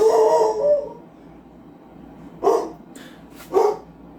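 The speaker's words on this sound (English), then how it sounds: "Dog!" A dog barks nearby, with two or three sharp barks spaced about a second apart, over low background noise after a brief trailing sound.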